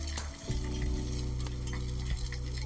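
Stuffed eggplants (bharva baigan) fry in a pan, giving a steady close sizzle with a few soft knocks as they are turned, and no talking.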